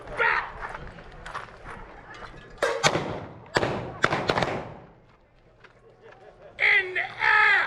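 Gunshots fired at a target outdoors in Arizona: a handful of sharp bangs separated by pauses, fairly loud, with people talking and shouting before and after them.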